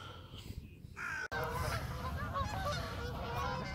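Geese honk as they fly over an estate lake during an October pike fishing session, a steady wash of calls sitting over outdoor ambience and wind.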